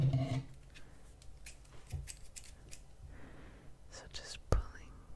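Soft snipping of scissors comes in brief, faint bursts among quiet whispers during ASMR cutting and combing, with a sharper snip near the end.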